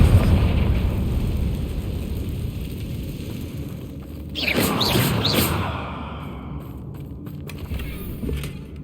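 A Confringo blasting spell goes off in Hogwarts Legacy on PS4: one sharp, whooshing explosive burst erupts midway over a low, steady ambient rumble, then fades into lighter crackling.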